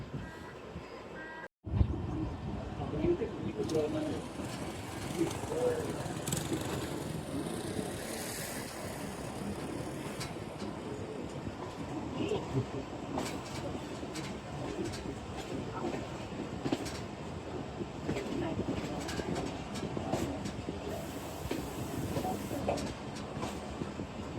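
Shah Hussain Express passenger train running on the main line between stations, a steady loud rumble of wheels and carriage rattle heard from inside, continuous throughout after a brief dropout near the start.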